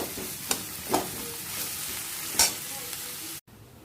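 Whole garam masala of cloves, cinnamon, peppercorns and cardamom fries with chopped onion in mustard oil, giving a steady close sizzle broken by a few sharp stirring scrapes before it cuts off abruptly.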